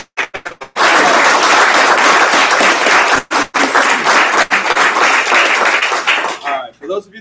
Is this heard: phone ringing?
no